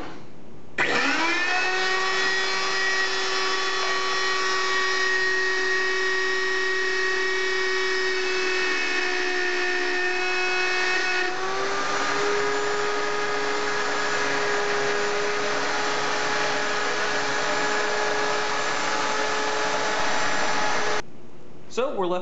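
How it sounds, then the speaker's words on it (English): A router table rounding over the edge of an endgrain cutting board: a loud, steady high-pitched motor whine with a slight pitch shift midway as the bit cuts, alone and close. "you are working upside down with this style of bit because you're in a router table"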